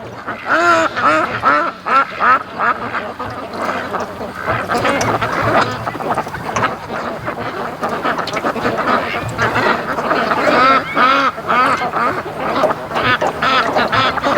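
A flock of free-range ducks on a lake quacks continuously, many overlapping calls close by and loud, forming a busy, unbroken chorus.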